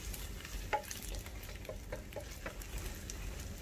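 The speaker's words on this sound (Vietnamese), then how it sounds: "chúng ta chiên nó sẽ ít bị dăng và chiên nó ngon nữa" Pieces of seitan (wheat gluten) fry in oil with a steady, soft sizzle and crackle. A utensil stirs and scrapes them in the pan at close range, and no one speaks.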